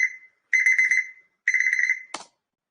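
An electronic timer alarm goes off in a series of loud, clean beeping bursts, each lasting about half a second, separated by short silences and ending with a brief click, with no talk over it.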